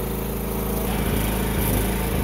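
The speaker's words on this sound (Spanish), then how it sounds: "Se ha encendido la planta" A power generator runs loud and close with a steady, buzzing engine drone that continues without pause.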